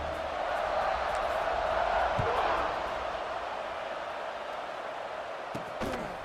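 A stadium crowd in the College Football 26 video game roars in a steady, dense wall of cheering that swells slightly and then eases, with a few faint thuds near the end.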